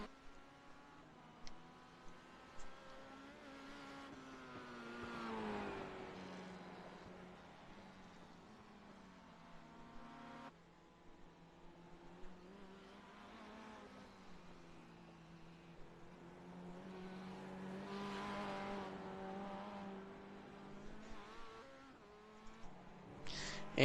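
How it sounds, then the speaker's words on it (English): Touring cars in a sim racing championship lap a circuit, engines buzzing and whining as they rise and fall through gear changes and pass by, fairly faint overall with a brief cut midway and no talk. "These cars just keep turning laps and laps and laps"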